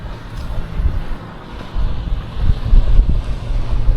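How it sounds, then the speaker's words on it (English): A small passenger ferry approaches the landing at Myola on a river, its low engine drone rumbling close under gusty wind buffeting the microphone, rising and falling in loudness with no voices. "In comes the little ferry."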